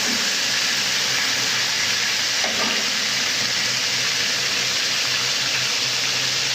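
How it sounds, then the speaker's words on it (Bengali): Data shak stalk greens are stirred in a hot pan, giving a loud, continuous frying sizzle with faint scraping throughout. "ডাটা শাকগুলো দিয়ে দিলাম, দিয়ে আবার ভালো করে একটু নেড়ে দেবো"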